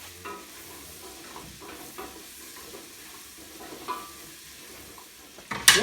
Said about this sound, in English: And we stir.